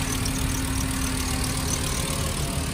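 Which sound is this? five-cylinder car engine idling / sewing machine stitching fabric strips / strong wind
five-cylinder car engine idling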